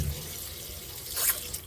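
A little water is poured into a cooking pot of fish with tomatoes and onions, a brief, quiet splash and trickle heard alone.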